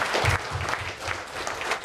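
Sustained audience applause at an award ceremony held by the Lions, steady and moderately loud clapping from a crowd throughout, with no voices over it.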